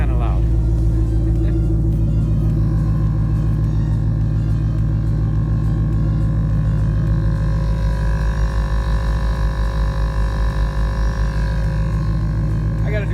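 The air suspension compressor of a bagged Mustang GT with an Airlift 3P system runs continuously, a loud, steady droning hum with a layered motor whine that holds for the whole stretch.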